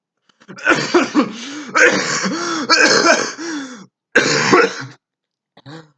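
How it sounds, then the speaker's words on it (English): A man coughs and clears his throat in several harsh, close bursts, each bout separated by a brief pause, ending with a short final rasp. "oh, I have a pretty bad cough."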